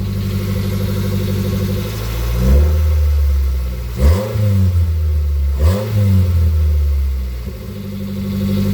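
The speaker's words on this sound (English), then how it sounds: "it sounds like it's got a fart cannon on it. I'm gonna rev it up." Close, loud Nissan Versa engine idling with a rough, raspy exhaust from a damaged muffler, then revved hard twice in quick bursts before settling back to idle.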